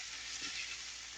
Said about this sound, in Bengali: এখানে টমেটো, পেঁয়াজ আর হচ্ছে আলু মিক্স করে হচ্ছে ফ্রাই করে দিব